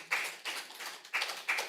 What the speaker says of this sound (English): Let's hold applause, please.